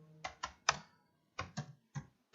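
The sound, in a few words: computer keyboard key presses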